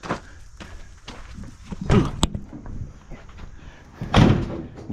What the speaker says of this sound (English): Close that door now.